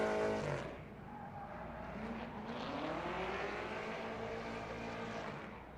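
Alex Lee's drift car at night during Formula Drift in Las Vegas, a loud engine roar with rising and falling revs and tire noise heard from a distance across the track, sustained throughout.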